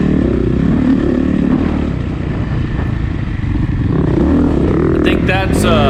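Dirt bike engines at a sand track, a Suzuki RMZ450 four-stroke alongside a two-stroke rider: loud, continuous close engine drone with shifting revs, someone talking over it, and rising whines near the end.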